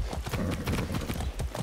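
Hooves pound in a fast gallop as a horse runs in the video game Far Cry 6, a dense, loud, close clatter of strikes with no voices.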